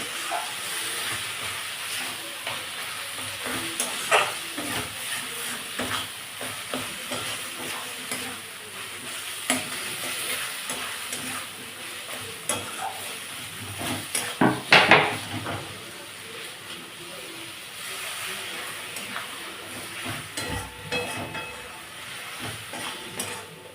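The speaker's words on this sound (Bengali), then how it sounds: "এটা একটু টাইম লাগবে মাংসটা কষতে।" Minced meat with chili powder, for a pointed gourd keema curry, sizzles steadily in a pan while a spoon stirs and scrapes it, with occasional louder clanks against the pan over continuous frying hiss.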